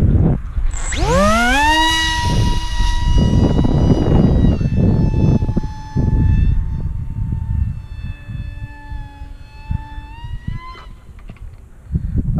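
Electric motor of a Sonic Model AR Mini 600mm foam flying-wing RC plane spools up to a high whine and holds steady as it flies, pitch drifting, loud and fairly close over wind noise.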